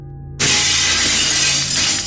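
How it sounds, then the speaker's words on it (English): Living room window glass shattering from a thrown rock: a sudden, loud crash of breaking glass that bursts in after near-silence and keeps crackling and tinkling for about a second and a half. "one of the living room windows shattered"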